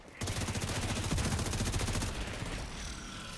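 Rapid automatic gunfire rattles in The Division 2, a dense burst of quick, evenly spaced shots that fades into a quieter tail of weapon noise.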